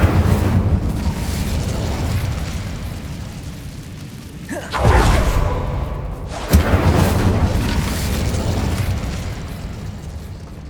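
Incendio fire spell in the game Hogwarts Legacy, a loud whooshing fiery burst followed by a second sharp blast, over a constant dense rumbling game background.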